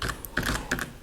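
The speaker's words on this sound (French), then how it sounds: "usage du clavier" Keys clack quickly and lightly on a keyboard connected to a tablet, a few close taps in uneven clusters at quiet level, with no talking.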